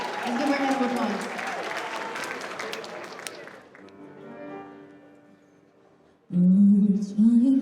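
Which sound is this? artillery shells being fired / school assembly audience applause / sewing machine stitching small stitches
school assembly audience applause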